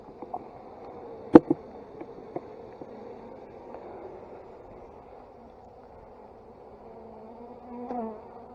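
Honeybees buzz steadily around an open hive during queen catching in July, a low continuous hum with a few sharp knocks near the start and a brief louder swell toward the end, no voices.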